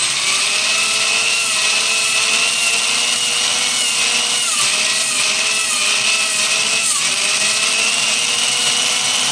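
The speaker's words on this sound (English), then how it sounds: "I'm staying towards the top and the sides where I'm at with the drill" A power drill porting Ford 460 E7 cylinder heads, a loud, steady high-pitched whine of the grinding bit held under light pressure, continuous and close with slight shifts in pitch.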